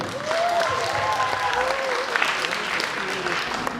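Audience at a KVN student comedy final at Bashkir State University applauding, dense sustained clapping from a large hall with some crowd voices and whistles mixed in.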